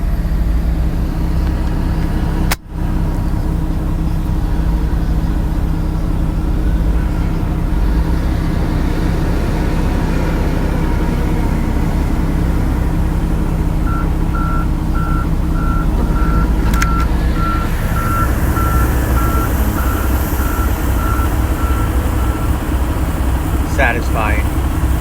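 A truck reverses at a Vulcan aggregate loading terminal in Jacksonville, Florida, a steady string of reversing beeps sounding over a constant engine rumble and heavy wind or road noise, with a sharp knock early on.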